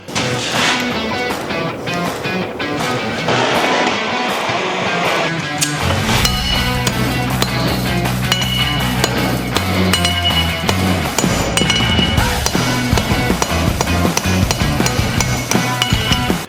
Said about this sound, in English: We set it first with our big hammer.